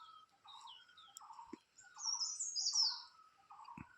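Birds chirp and tweet in a sunny forest at a campsite, with repeated short calls and higher trilling notes, fairly faint and distant, with occasional small knocks.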